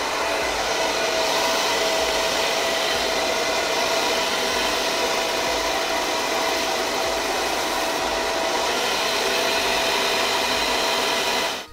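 A pink Salon Professionals blow dryer runs on its low cool setting, giving a steady, close, even whoosh of airflow with a faint motor whine throughout, with no voices.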